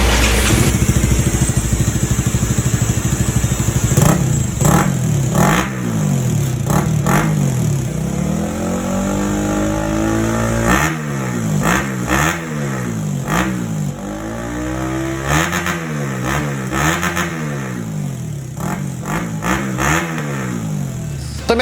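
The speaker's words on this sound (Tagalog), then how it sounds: "Soundcheck naman tayo guys, Bilane GP2 ng may silencer." A Yamaha Sniper 155 underbone motorcycle fitted with a Bilane GP2 exhaust and silencer revs repeatedly up close, each throttle blip rising and falling in pitch over a steady idle.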